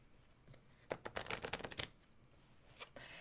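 Lenormand cards are shuffled at a table in a quick riffle of crisp clicking flutters, followed by a few softer card taps, faint and close.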